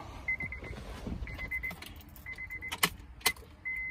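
Quiet, repeated short electronic buzzing bursts with faint clicks in between from a 2006 Honda Accord 3.0L whose engine fails to crank.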